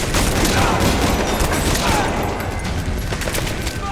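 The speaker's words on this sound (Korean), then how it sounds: "다른 데서 지금 쏘고 있어 잘 안 보여요" Enemy gunfire in Metal Gear Solid V: The Phantom Pain, a dense, loud barrage of rapid shots and crackling bursts packed tightly together, unbroken for the few seconds it lasts.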